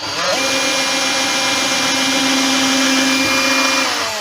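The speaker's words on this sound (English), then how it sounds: "and drill your pilot hole." A power drill whines steadily and loudly for about four seconds up close, drilling a pilot hole in a wooden candlestick, its pitch holding level before it winds down.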